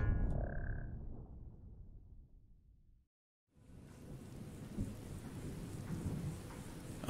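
Rain and thunder in a modded Skyrim game on the Falskaar map: a deep rumbling roll of thunder fades out. After a brief silence, steady rain hiss returns with faint croaking beneath it.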